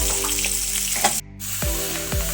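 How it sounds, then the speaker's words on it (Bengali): Cauliflower florets fry in oil in a wok, a dense close sizzle that briefly drops out, then resumes with a couple of low knocks against the pan. "ফুলকপিগুলো আমার ভাজা হয়ে গেছে"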